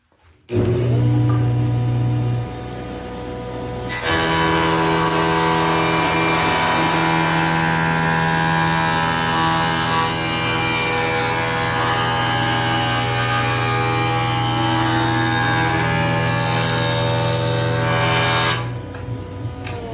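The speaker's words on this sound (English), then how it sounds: "the edges need to go over the joiner to make them nice and smooth and straight" A jointer planes the rough sawn edges of wood boards for a cutting board, a steady loud machine whine and cutting roar running continuously for most of the stretch, with no talking.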